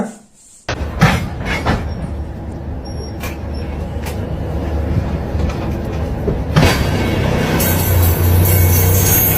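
A train runs with a flat wheel, giving a loud, close rumble with sharp repeated knocks and clatter over a steady roar. A brief screech comes near the end.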